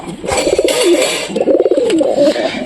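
Pigeons coo close by in a home loft, repeated rolling throaty calls overlapping one another, loud and continuous with no talk.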